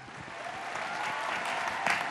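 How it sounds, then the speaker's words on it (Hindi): A studio audience at a Hindi TV talent show claps in loud, sustained applause that fills the room evenly throughout. "जोरदार तालियों के साथ स्वागत कीजिए"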